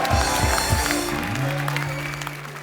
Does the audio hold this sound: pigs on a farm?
no